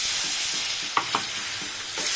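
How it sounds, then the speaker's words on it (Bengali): Turmeric and spices being stirred in hot oil in a pan, a steady sizzle with a few distinct scraping knocks of the spoon near the middle, close and alone with no talk. "একটু নাড়াচাড়া দিয়ে মিশাই নিই।"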